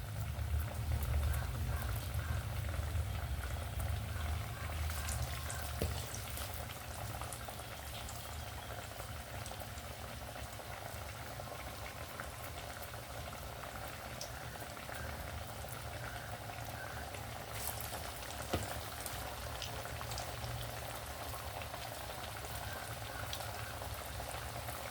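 Pesalu chanagala vadas made from soaked, ground batter sizzle in hot oil, a continuous bubbling crackle that is louder at first and then settles into a steady fizz with a few sharp pops.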